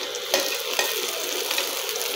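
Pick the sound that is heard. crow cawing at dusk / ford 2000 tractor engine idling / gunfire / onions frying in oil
onions frying in oil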